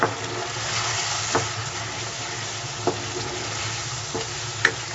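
Chicken karahi being stirred in a pan with garlic ginger paste and spices, a steady sizzle and fry broken by a few sharp spoon scrapes and clinks, with no voices.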